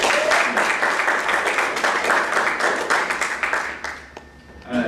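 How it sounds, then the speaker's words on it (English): Audience at a comedy show breaks into clapping, loud and fairly even at first, then tapering off and fading near the end before a voice returns. "Let's give them a round of applause too."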